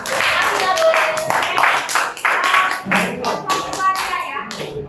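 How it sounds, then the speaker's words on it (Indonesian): Classroom of students applauding a group, a dense, steady patter of many hands clapping close by for several seconds, with children's voices chattering underneath. "tepuk tangan dulu untuk kelompok kita"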